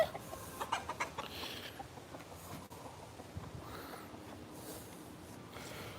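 Faint clucking from several chickens over a busy, noisy background, with a few short sharper calls near the start.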